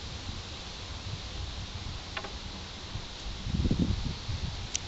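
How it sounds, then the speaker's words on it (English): Wind blows outdoors as a steady, faint, rushing noise with soft rustling, swelling into a stronger gust near the end. "Although it's pretty windy"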